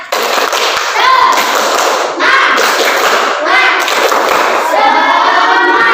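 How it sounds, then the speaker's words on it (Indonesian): A classroom of pupils doing rhythmic spirit clapping, loud and close, with patterned bursts of claps and chanted voices repeating in cycles. "Kan tepuk semangat."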